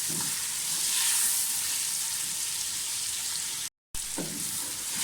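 Mutton sizzles steadily in a pot during bhunai, a soft continuous hiss with a brief cut in the sound, and low scraping of stirring near the end.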